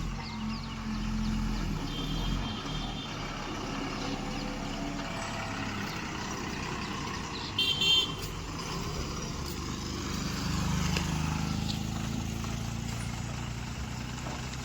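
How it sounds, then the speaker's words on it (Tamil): A loaded tipper truck reverses toward a soil unload point, its diesel engine idling and rumbling fairly quietly with a low, steady drone, a short sharp burst near the middle, and a slight swell in engine noise toward the end. "அன்லோட் பாயிண்ட்டுக்கு வந்துட்டுங்க. வண்டி பேக்கில் தான் வருது"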